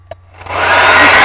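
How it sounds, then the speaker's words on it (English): An old hair blow dryer said to date from around the 1940s switches on with a click and quickly swells into a loud, steady whooshing roar that holds at full strength. "This hair blow dryer is like from the 40s or something"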